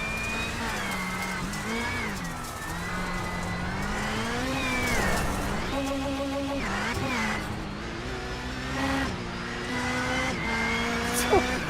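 Onboard a number 04 rallycross race car during a Round 5 NASA Rallycross lap in Charlotte, the engine drones loudly and continuously, pitch climbing and dropping through gear changes, close and steady throughout with no voices.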